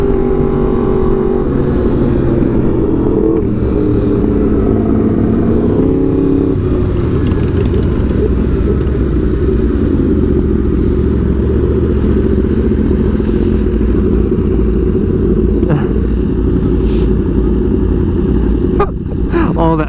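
Four Yamaha R1M sport bikes leave a bike meet, close and loud, with engines revving and rising in pitch, throttle blips, and a continuous roar of idling and accelerating motors, with voices faintly mixed in.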